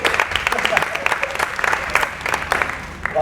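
Theater audience clapping for a DJ at a live stage show, fairly loud and close, with distinct individual claps standing out from the crowd and a voice talking over it.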